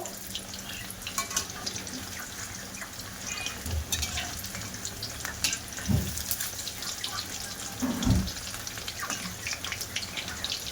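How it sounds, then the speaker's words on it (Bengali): Sandwich pakoras frying in hot oil make a continuous crackling sizzle, with a few louder spoon or ladle knocks partway through as they are turned. The sound is close and no one speaks. "এবার আমি স্যান্ডউইচ এই পকোড়াগুলো সব ভাজা করে নেব"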